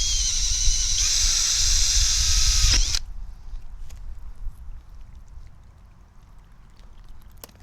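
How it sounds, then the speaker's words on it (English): A high-pitched power drill whines steadily for about three seconds drilling into PVC sprinkler pipe, then stops abruptly, leaving faint clicks and low background rumble. "so let me drill right here"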